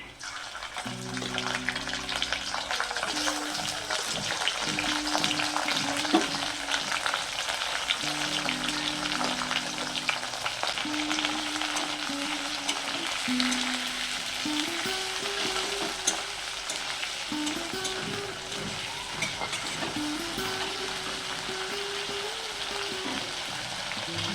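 Prawns sizzling in a pan with garlic browned red, frying steadily with stirring scrapes throughout, backed by a tonal hum; no talking.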